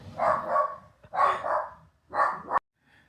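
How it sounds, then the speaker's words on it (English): A dog barks in three loud, close bursts, each bark drawn out and harsh, with a short pause between them and quiet after the last one, indoors. "My dog has a bad habit of barking at the"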